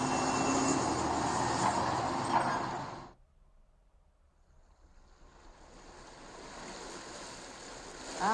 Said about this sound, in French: je vais baisser un petit peu le volume des vagues